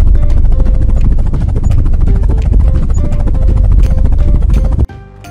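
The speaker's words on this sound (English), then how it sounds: "Heavy lift helicopter." A heavy lift helicopter gives a loud, steady rotor and turbine roar with a dense rhythmic beat, heard close and alone, then cuts off sharply near the end.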